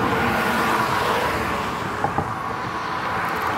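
Road traffic rolling past near a beach bike path on Sanibel Island, Florida, a steady broadband rush of car tyres and engines, loud and close, with a couple of faint clicks near the end.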